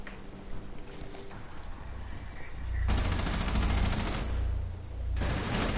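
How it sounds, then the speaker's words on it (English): Automatic gunfire from the video game Rainbow Six erupts in two long, loud, rattling bursts after a quieter stretch, with a brief pause between them. "You weren't even shooting at the right fucking place!"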